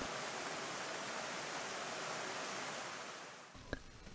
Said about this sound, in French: le bruit régulier de sa cascade